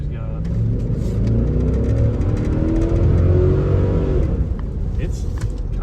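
A big Cadillac Escalade truck engine revs and accelerates with a loud, rising rumble that climbs in pitch for several seconds, then settles back, with a voice talking over it.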